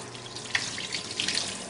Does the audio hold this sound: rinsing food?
yes